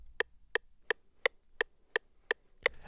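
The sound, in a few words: metronome click at 171 BPM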